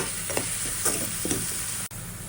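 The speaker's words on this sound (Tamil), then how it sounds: "ஸோ 2 சேர்த்து நல்லா ஃப்ரை ஆகும்." Ginger garlic paste and green chillies fry in oil in a pan for a South Indian white chickpea kurma, a steady close sizzle with a few soft stirring scrapes and a momentary dropout near the end.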